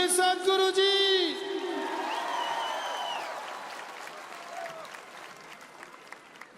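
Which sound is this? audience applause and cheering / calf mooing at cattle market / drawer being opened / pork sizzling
audience applause and cheering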